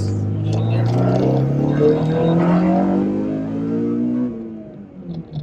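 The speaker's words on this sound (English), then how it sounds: "And the engine just wants to keep going." A 2010 Honda Civic Type-R VTEC engine revs steadily upward in pitch, droning loudly and close, then drops off near the end as the revs fall.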